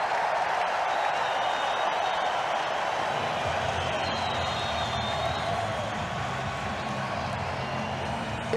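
A stadium crowd of around 21,000 at a rugby league match gives a standing ovation, a dense, sustained wash of applause and cheering that stays steady throughout.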